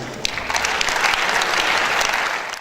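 Warm applause from the audience at the NIESV 49th National Conference fills a short, steady burst of dense clapping across the hall.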